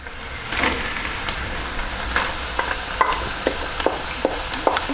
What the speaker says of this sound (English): once the mince has browned, the next thing you need to do is add the onion